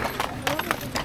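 Horses' hooves clip-clop in an uneven walking rhythm while climbing uphill, the sharp knocks close and moderately loud against background breathing and talk.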